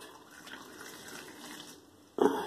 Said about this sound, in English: Look at this piping hot water.